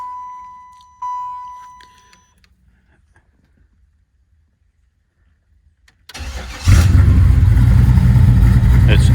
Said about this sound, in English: It is running on all 8 cylinders. It's running really nicely.